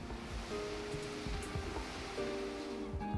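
Ocean waves surging and washing ashore, a steady broadband roar of surf with soft swells in intensity, moderately loud and continuous throughout, with no voices.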